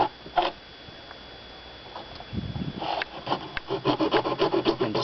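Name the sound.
hacksaw blade cutting slots of a pool deck drain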